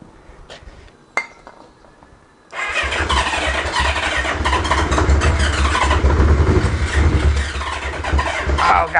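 A Subaru Brat engine on a tired, weak battery: a few faint clicks and ticks, then after a pause a sustained loud rumbling crank with grinding starter noise running to the end, no voices.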